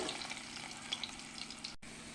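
Potatoes frying in a pan with a pinch of salt, a steady soft sizzle and crackle running close and continuous for a couple of seconds with a brief cut near the end.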